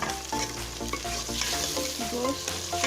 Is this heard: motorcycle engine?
no